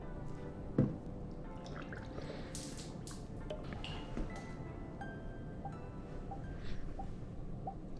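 Motorex coolant gurgling and dripping as it bleeds through a KTM race motorcycle's radiator system after a radiator swap and flush, soft wet trickles and bubbles close up with occasional small splashes, no talking.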